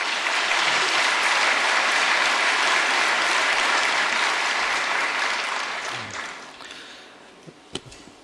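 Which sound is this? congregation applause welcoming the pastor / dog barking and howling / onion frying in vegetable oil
congregation applause welcoming the pastor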